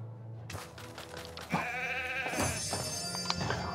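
A sheep bleats in the video game Lego Worlds, a wavering nasal call that rises loud and close over a busy layer of game sounds, with no talking.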